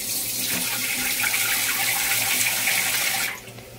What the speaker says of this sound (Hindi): बस थोड़ा सा जैसे पानी ऐड करूंगी अपने हिसाब से